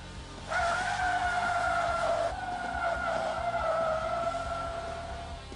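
A Mitsubishi L200 pickup braking hard from 60 mph with ABS switched off on a proving-ground track, its tyres letting out a loud, sustained squeal that holds steady for about five seconds with no voices.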